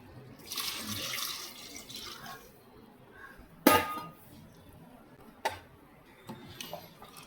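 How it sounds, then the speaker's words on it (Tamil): Hot water is poured into a pot of chicken leg piece biryani with masala, giving a soft watery wash early on. A few sharp metallic clinks of the vessel or utensil follow later, and no one speaks. "இப்போ நான் இந்த தண்ணி அதில் ஊற்றுவேன்."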